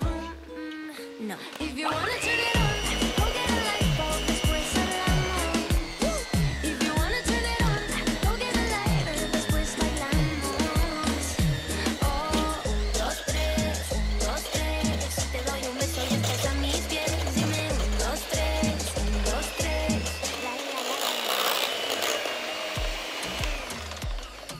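An electric mixer beats cake batter, its steady whirring motor loud and continuous for about twenty seconds with slight pitch shifts, then switching off near the end.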